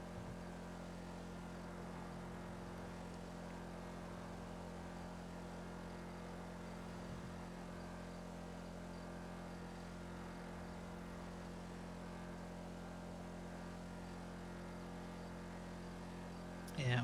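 Four-door car engine at steady cruising speed, a constant low droning hum that holds evenly with little change, moderately quiet and with no talk.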